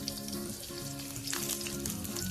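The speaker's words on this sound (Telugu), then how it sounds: "యాడ్ చేసుకొని కాస్త ఫ్రై చేసుకున్నాం వాటిని" Mustard seeds, cumin and green chillies frying in hot oil give a steady, close sizzle with light crackling and stirring throughout, no voices.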